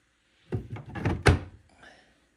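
A salvaged wooden cupboard door swings shut, giving a few close knocking thuds followed by one firm closing clunk, then quiet.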